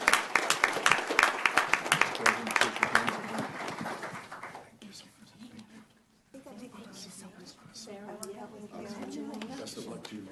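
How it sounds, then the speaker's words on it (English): Audience applause at a Rancho Cucamonga city council meeting, dense clapping for the first few seconds that fades out, followed by voices talking nearby. "Let's give them a big round of applause."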